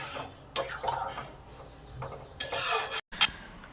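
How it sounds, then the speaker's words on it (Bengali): Pancharatna dal being stirred and mixed in a cooking pot, soft scraping and clinking of a spoon against metal in short irregular strokes, close and fairly quiet. "সব কিছু ভালো করে মিশিয়ে নিই"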